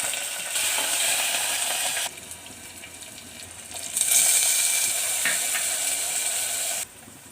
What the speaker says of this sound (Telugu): జీలకర్ర ఆవాలు వేసుకుంటాం ఎండుమిరపకాయలు వేసుకున్నాను